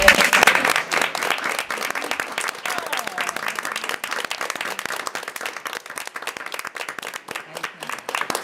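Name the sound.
board meeting audience applauding the superintendent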